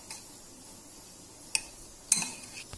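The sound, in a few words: mixing corn chaat with spoon in bowl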